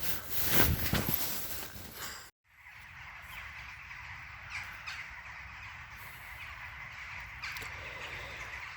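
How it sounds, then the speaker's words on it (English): A large flock of birds settles in the trees overhead outdoors, a loud rustling burst giving way to a dense, steady chorus of harsh calls. "A huge flock of birds has landed in the trees above my head."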